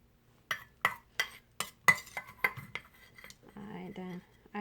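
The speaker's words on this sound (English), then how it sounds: "what you're gonna do is scoop it up inside your egg like that" A metal spoon scooping egg filling into halved eggs, a series of sharp clinks and taps against a dish at an irregular rhythm, close up, ending in softer scraping.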